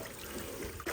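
A dirty pond filter sponge from a 500-gallon pool pond rinsed under running water, a close continuous trickling and splashing that briefly swells louder near the end.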